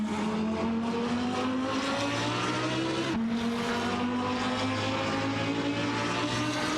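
Race car engines roar continuously in an AI racing video game, an Aston Martin DBR9 and other GT cars droning loud and close with rising pitch as they accelerate, one brief dip as a gear shifts.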